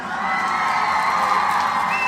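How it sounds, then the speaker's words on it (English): A crowd cheers and whoops at a celebratory toast gathering, a dense, steady wash of voices at moderate distance with little clear clapping, holding for about two seconds. "we want to give a round of applause to all of our Nia babies"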